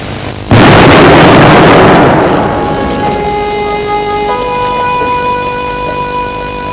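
A V1 flying bomb's one-ton high-explosive warhead detonates with a sudden, massive blast that rolls and rumbles for about two seconds, then settles into a hissing, noisy archival background with steady whining tones.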